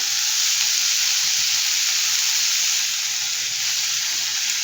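Onion frying in a pan with spices such as amchur powder, a dense, steady, loud sizzle that hisses continuously throughout with no voices.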